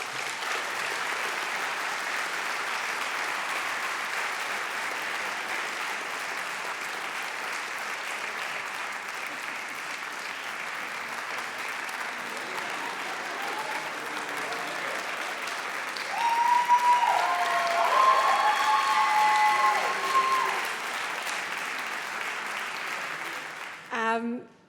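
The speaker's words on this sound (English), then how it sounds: "Please join me in giving them one more round of applause." Sustained audience applause fills an awards ceremony hall for writers, a steady dense patter of many hands that swells louder near the end before cutting off abruptly.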